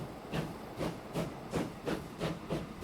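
A steam locomotive hauling fuel in Transport Fever 2, set in 1880, chuffs in a steady rhythm of about six hissing puffs, quiet and evenly spaced with no talk.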